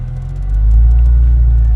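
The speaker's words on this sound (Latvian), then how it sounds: "Parkojies Kālītim blakus" A Porsche being driven slowly while parking, its low engine rumble steady and close, swelling slightly partway through with no talking over it.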